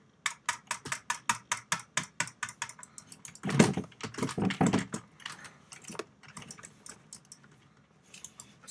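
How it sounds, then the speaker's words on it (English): A computer keyboard clatters close up with a steady run of key presses, a dense burst of rapid typing in the middle, then slower, scattered keystrokes while playing the online game Booga Booga. "Sorry if my keyboard is a little loud."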